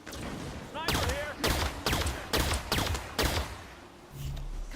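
A sniper rifle fires in the video game Halo 5, five or six loud, sharp shots at a steady pace of roughly one every half second, each with a short ringing tail.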